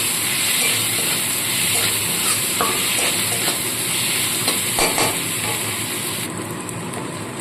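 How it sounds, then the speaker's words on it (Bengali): Onions fry lightly in a pan, a steady, fairly loud sizzle with occasional stirring scrapes and clinks, close and without talk, easing slightly near the end. "পেঁয়াজটা হালকা মতো ভেজে নিচ্ছি"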